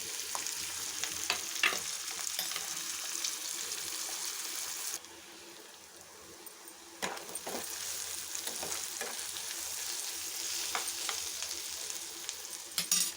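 Chopped onion and green chilies fry in a pan for a village-style chana dal curry, with a constant close sizzle and stirring scrapes. The sizzle dips briefly midway, then returns at full strength.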